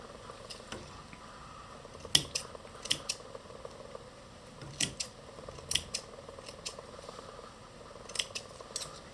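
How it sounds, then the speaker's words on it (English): Scissors snip yarn to free a weaving project from a rigid heddle loom, giving a string of sharp, close cutting clicks at irregular intervals over quiet room tone. "Need a good pair of scissors for this."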